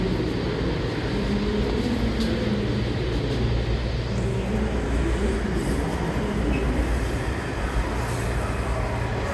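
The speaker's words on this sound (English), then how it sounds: "This is a Blue Line train to Franconia Springfield" A DC Metro Blue Line subway train rides along, heard from inside the car as a steady loud rumble of wheels and motors with faint squeals and rattles throughout.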